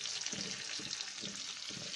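Giant freshwater prawns frying in oil with turmeric and salt, a constant bright sizzle with low rhythmic stirring or shifting pulses repeating about every half second.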